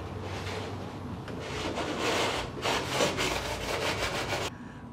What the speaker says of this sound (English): Deburr time.